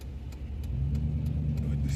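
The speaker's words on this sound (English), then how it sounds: "Car came past and splashed the side of it like something hit it" A car drives past on a snowy highway during a snowstorm and throws a loud whooshing splash of slush against the side of a vehicle, over a steady low engine rumble close by.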